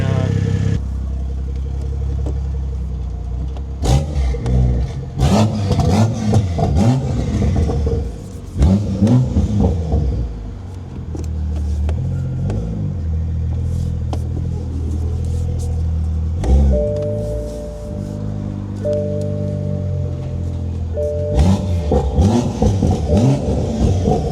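A Toyota A91/A90 MK5 Supra engine with a 5-inch aftermarket downpipe revs hard and loud, rising and falling in repeated pulls with a deep turbo-spool rumble, a brief whistle-like tone appearing between revs.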